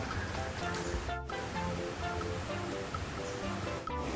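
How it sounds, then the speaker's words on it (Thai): Rushing water from a waterfall at Haew Narok in Khao Yai, Thailand, roars steadily throughout, a constant dense hiss without pauses. "ได้ยินเสียงน้ำตกแล้ว"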